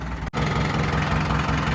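A 575 tractor engine idles close by with a steady low throb that drops out for an instant near the start, then runs on evenly.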